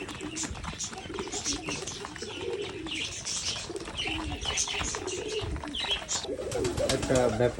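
Several pigeons of different sizes coo in overlapping low, rolling phrases at close range, with occasional chirps and faint voices in the background.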